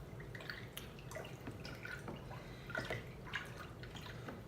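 Hair dye is stirred into warm water in a container, giving soft close drips, sloshes and small liquid splashes in an irregular rhythm, quiet and without speech.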